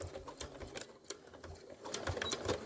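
A domestic sewing machine stitches a fabric cup cozy, its needle running in short bursts of rapid mechanical clatter at moderate distance, with brief pauses between runs and no voices.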